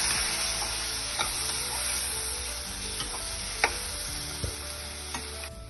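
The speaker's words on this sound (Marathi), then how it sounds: "रवा, खोबरं आणि दूध याचं मिश्रण आपण आता छान भाजून घेतलेलं आहे।" A semolina, grated coconut and milk mixture roasts in a pan with a low continuous sizzle, while a spoon scrapes and stirs it, giving occasional soft knocks and scrapes against the pan. No voices.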